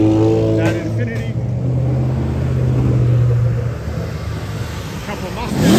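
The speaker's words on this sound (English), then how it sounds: "interesting cars leaving the Supercar show" Supercars leaving a car show pass nearby, one engine revving loud and then fading off, with road noise and another car approaching at the end; someone talks over the traffic.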